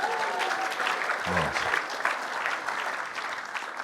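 At a stand-up comedy show the crowd applauds for moms, a lively, sustained patter of clapping with a short cheer or voice breaking through early on.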